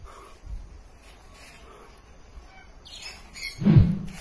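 A crow gives a single harsh caw near the end, close and fairly loud, after a stretch of quiet outdoor background with faint rustling near a pile of drying firewood.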